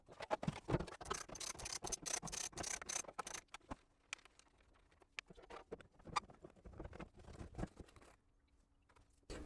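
A ratchet wrench with an 8 to 10 mm socket clicks in quick bursts, with pauses between, while removing the bolts on the gas tank lid of a Honda Integra DC2. The clicking is close but fairly quiet.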